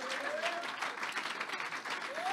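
A church congregation at a Sunday worship service applauds, with dense, continuous clapping filling the room for a couple of seconds and no speech over it.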